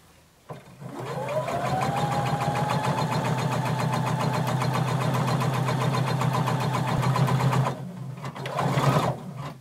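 Domestic sewing machine stitching a quarter-inch hem along the edge of skirt fabric, running steadily and close for about seven seconds, with a short stop and a brief second burst near the end.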